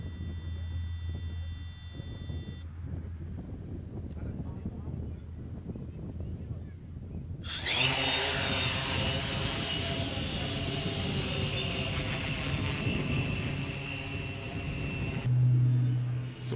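A geo-konzept UAV XR6 survey multirotor drone arms and lifts off outdoors in light wind: quiet wind-buffeted start, then a sudden loud whining motor roar with rising tonal hum that holds steady, close to the microphone.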